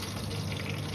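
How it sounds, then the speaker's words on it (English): Batter is poured into a hot oven tray for toad in the hole, making a brief, steady liquid pouring and gushing sound, fairly quiet and heard alone. "just pull the tray out like this and just pour the batter"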